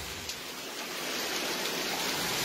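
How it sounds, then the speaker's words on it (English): Heavy rain pours down steadily as a dense, continuous hiss that builds slightly in loudness, with no voices over it. "Yep, the rain continues."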